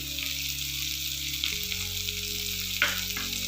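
Ingredients sizzle in a pan while capsicum peanut curry is cooked, a steady close crackling fry with a low hum underneath and a couple of brief clinks.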